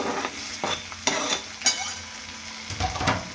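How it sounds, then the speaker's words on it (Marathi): Potato pieces and green chillies frying in oil that is not yet very hot, for sabudana khichdi, with steady sizzling broken by several sharp stirring scrapes and clatters of a spoon against the pan, close and fairly loud. "आता लगेच मी ह्याच्यामध्ये ना बटाटा टाकून घेते."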